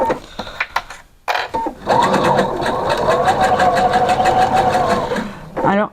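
A sewing machine stitches a skirt seam in a steady whirring run of several seconds, with short bursts before it and a pause in the middle while someone talks.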